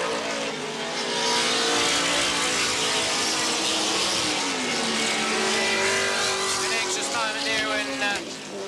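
A 1981 sports sedan race car at Wanneroo Park comes over the Motorcraft hill, its engine a loud sustained roar that shifts pitch as it passes, with a commentator talking over it.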